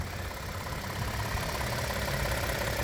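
A Toyota Tundra twin-turbo V6 engine runs steadily at idle, a dense continuous rumble with a slightly uneven texture, close and fairly loud, with no talking.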